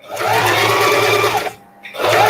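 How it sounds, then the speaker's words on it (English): A sewing machine stitches together fabric scraps with a loud, close, continuous motor whir and needle hum. It stops briefly near the end, then starts running again. "I'm going to reverse sew to lock my stitches. And move forward."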